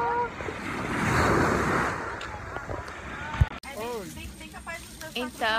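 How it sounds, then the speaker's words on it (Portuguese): Sea waves surging and breaking on a beach in Rio de Janeiro, a loud rushing wash with wind buffeting the microphone, then a voice talking over fainter surf. "Muita onda, as ondas do mar."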